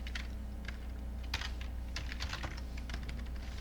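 Fingers tap a computer keyboard in a steady stream of quick, close keystrokes with a few louder clicks, over a low constant hum and with no one speaking.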